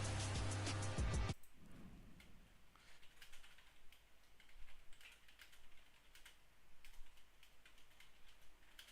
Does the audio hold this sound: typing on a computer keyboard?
yes